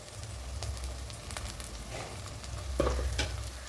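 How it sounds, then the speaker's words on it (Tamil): Soft sizzling in a pan with a few scraping stirs, leaves sautéing in oil at close range and fairly quiet. "இந்த மாதிரி க்ளோஸ் பண்ணி வதக்கச்சா நல்லா சீக்கிரம் வதங்கிடும்"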